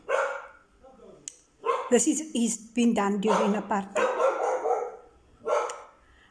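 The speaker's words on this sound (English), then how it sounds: "Dog only barks at black people." A dog barks in short bursts through the middle of the scene, its barks mixed in with someone talking over it at close range.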